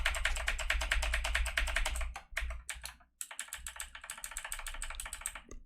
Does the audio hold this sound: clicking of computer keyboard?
yes